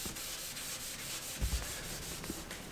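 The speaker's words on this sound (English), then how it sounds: "I like to just take just a t-shirt and just rub it in" A soft, steady cotton t-shirt rubbing Danish oil into a newly built wooden bench, with faint repeated strokes heard up close and no talking.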